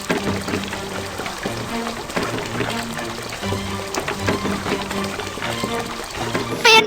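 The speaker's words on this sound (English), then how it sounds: "Drag the hose to fill the pool with water." Cartoon water gushing from a hose into a pool, a steady pouring wash that runs throughout under a light bouncy music bed with repeating low notes.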